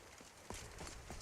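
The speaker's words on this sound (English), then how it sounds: "That's just a normal Skyrim horse." Horse hooves clip-clopping in the video game Skyrim, a few faint, soft, evenly paced steps heard alone under a hissy background.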